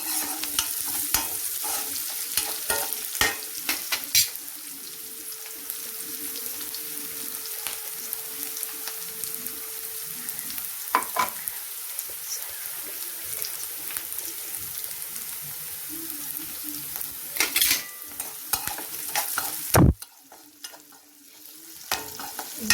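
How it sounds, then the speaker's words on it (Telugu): Mutton fries in a pan, salted and cooking until golden, with a soft continuous sizzle, frequent clinks and scrapes from stirring that come in irregular bursts, and a sharp louder clatter near the end. "బాగా వేగాలి. గోల్డెన్ కలర్లో వస్తే"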